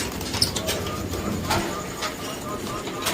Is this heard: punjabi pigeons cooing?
yes